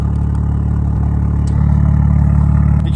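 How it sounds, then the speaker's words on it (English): A BMW M2 with an M Performance exhaust idles steadily and loudly up close, and its exhaust valve gives a brief, mild click partway through, followed by a slight deepening of the low rumble. "You can't really hear the tone change too much, but you can hear the valve click."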